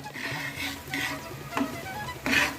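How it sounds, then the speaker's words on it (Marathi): Semolina being stirred into melted ghee in a pan for sweet sheera: soft, repeated scraping strokes of a spoon across the pan, moderately close, with a faint sizzle beneath and no talking. "छान प्रकारे आपण हे ढवळून घेऊया"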